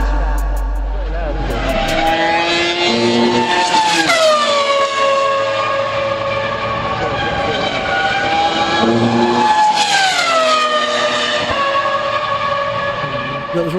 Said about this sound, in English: we've captured those sounds, the sounds of cars at Le Mans